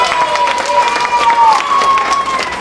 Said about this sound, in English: give the library a round of applause for bringing the program for you.